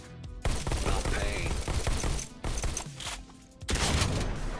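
Shotgun blasts in the VR shooter Robo Recall, fired at robots as sharp, loud booms in quick succession, layered with game effects and mechanical clatter, close.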